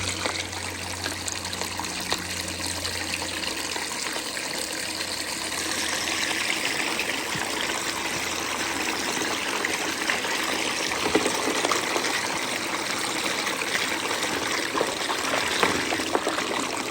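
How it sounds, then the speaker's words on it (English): Water washes gold paydirt through a sluice over a slick plate and into a wool stack, a steady close trickling and rushing flow that carries on without a break for the whole stretch. "dump it on in and let it go. See it working right through it across that slick plate"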